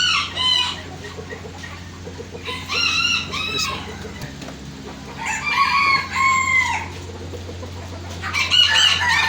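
An Aseel rooster at a breeding setup in Pakistan crows and clucks close by in several loud bursts, with short pauses between calls and a steady low hum underneath.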